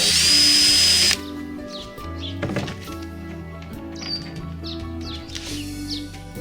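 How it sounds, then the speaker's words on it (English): A power drill whines loudly for about a second as it bores a hole in a fishing kayak, then cuts out, leaving faint clunks and birds chirping in the background. "Okay, drill our hole."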